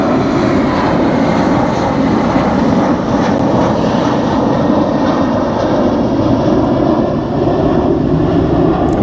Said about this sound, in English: jet flying right over the church.